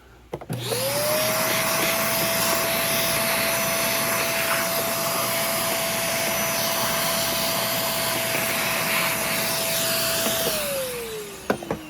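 A Sanitaire S5000a upright vacuum runs close by, its motor spinning up and holding a loud steady whine with a rushing suction hiss while cleaning out the filter area, then winding down.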